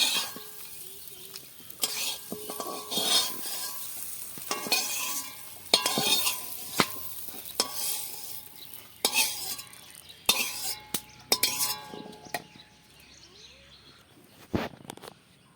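A utensil scrapes and clatters against a wok as fried papaya is stirred, with repeated sharp metal knocks and a low sizzle underneath, close and moderately loud.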